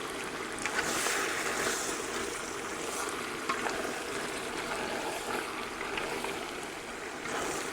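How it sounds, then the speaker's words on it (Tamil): A steady broadband wash of flowing, bubbling liquid continues without a break as hot water is poured into a simmering wild boar curry, with no talking. "கொஞ்சம் சுடு தண்ணி விட்றேன்"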